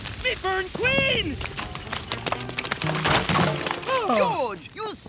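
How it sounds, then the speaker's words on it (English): Cartoon crash and smashing as things are slammed into a jungle termite mound, a busy clatter of breaking and cracking hits mixed with whooping character voices and music. "you smashed them into a termite mound"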